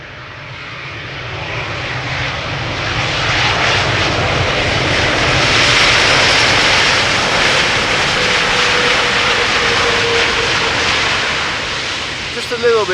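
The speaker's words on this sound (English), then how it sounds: "Time for Delta's A330 Neo, flight 144, arriving from Seattle, Washington." A Delta Airbus A330neo jet arriving at Amsterdam Schiphol, a broad roaring rush of engine noise that swells to a loud peak and slowly fades as the aircraft passes, with a voice talking faintly at times.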